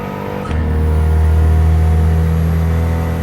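A DLC car's engine in Gran Turismo 7 revs up sharply and holds a loud, steady drone with a strong low hum, heard alone without talk.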